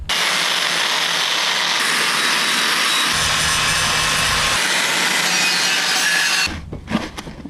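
A flap wheel grinds across a broken car wheel being repaired for drifting, a loud, steady abrasive whine with no break for about six seconds before it cuts off.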